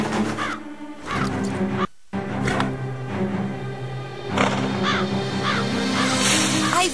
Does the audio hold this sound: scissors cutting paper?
no